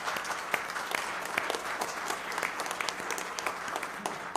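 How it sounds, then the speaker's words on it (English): Congregation at a worship service applauding, a close, continuous spread of many clapping hands with individual sharp claps standing out. "So let's give them a round of applause."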